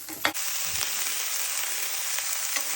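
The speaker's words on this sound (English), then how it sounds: "I'm just going to move it around while I'm sauteing it" Steady close sizzle of mirepoix sautéing in a hot pan, a continuous frying hiss with a brief stir or scrape at the start.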